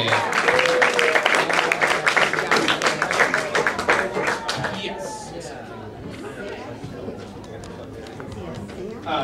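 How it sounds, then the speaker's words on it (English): Open mic audience at a gallery brew house clapping for the first performer, a dense burst of applause mixed with chatter that tapers off toward the end. "Start clapping for your first performer coming to stage"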